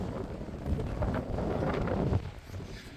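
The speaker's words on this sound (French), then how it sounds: "Je parie qu'on va rien entendre avec le vent. Ça souffle mais c'est abusé." Strong wind blows across the beach at Middelkerke, battering the microphone with a loud, continuous roaring rumble that eases slightly near the end, with no one speaking.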